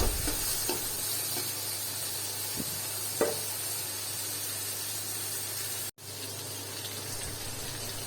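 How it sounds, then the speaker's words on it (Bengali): Onions frying in ghee in a pot for pilau, a steady sizzling hiss running throughout with a few faint clinks, close and fairly loud, no voices. "এখন পেঁয়াজটা আমি একটু ভেজে নিব।"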